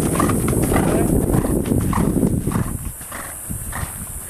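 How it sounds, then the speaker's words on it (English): Horse cantering over cavaletti poles in an arena, rhythmic clip-clopping hoofbeats close by, with people talking over the hooves. "Let's canter down over the Cavaletti and change direction."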